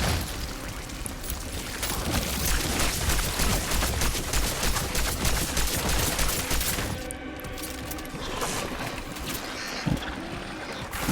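Rapid automatic gunfire aimed at an enemy in the video game Cronos: The New Dawn, dense overlapping bursts rattling loudly and almost continuously with no talking.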